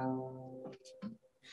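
A single plucked bass string of a nyckelharpa, silk wound with silver, rings alone with a bright, sustained harmonic tone that fades after about half a second, followed by a few soft thuds and rustles.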